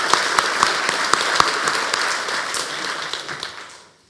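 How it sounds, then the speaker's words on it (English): A conference audience at the NLNOG 2016 network operators' event claps for LeaseWeb, steady dense applause with a few sharp individual claps, fading out over about four seconds. "Give them a warm applause."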